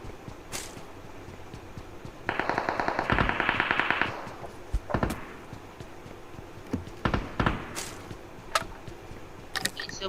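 Automatic gunfire in the mobile battle royale game BGMI (PUBG Mobile): a dense burst of rapid shots around the middle, then scattered single shots, fairly loud over a steady game background.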